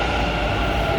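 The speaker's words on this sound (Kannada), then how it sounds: "ಅಂಚ ಎಂಕಲ ಮೆಟ್ರೋ ಬರ್ತುಂಡು." A metro train arriving fills the second with a steady, dense rumble and rolling wheel noise, loud and continuous without any speech.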